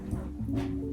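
A dog whimpers and yips nearby indoors in a short burst of strained, tonal vocal sounds, alone without speech.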